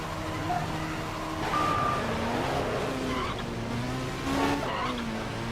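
Racing cars and Kawasaki motorbikes tearing along in the Midnight Club 3: DUB Edition Remix video game, with engines whining through gear changes and tires squealing over a steady drone.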